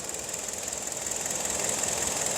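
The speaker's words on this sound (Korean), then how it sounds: "시동 걸었습니다 조용하죠" A Hyundai Sonata engine idles just after a cylinder head replacement, holding a steady, even hum with a faint rapid pulsing rhythm, close and continuous, with no talking.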